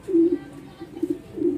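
A pigeon coos at close range in a few soft, low, throaty phrases repeated in quick succession, with no other sound.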